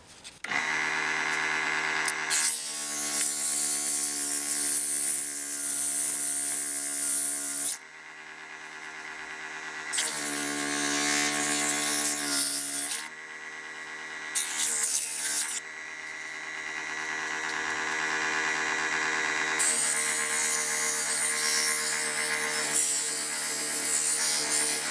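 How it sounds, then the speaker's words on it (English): A mini wood lathe spins a workpiece while it is sanded, giving a steady electric motor whine with humming overtones that cuts out and restarts several times, with no talking. "I remove the tool rest so I can reach in and sand."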